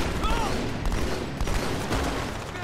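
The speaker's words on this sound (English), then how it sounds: "Who's shooting at me?" Gunfire in the Halo 2 Anniversary video game, a dense, continuous barrage of shots and blasts running steadily throughout at fairly high level, with no clear gaps between bursts.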